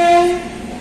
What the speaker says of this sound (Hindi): ये रहा ट्रेन खड़ी है।